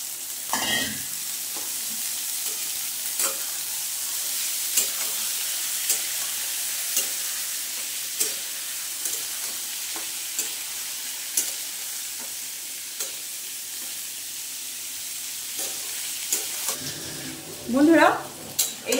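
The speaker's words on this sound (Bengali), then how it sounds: "এবারে এই ছোলা ভিজিয়ে ভালো করে কষিয়ে নেব।" Soaked chickpeas frying in spiced oil, a steady bright sizzle throughout with regular scraping stirs of a spatula against the pan and a louder clatter near the end.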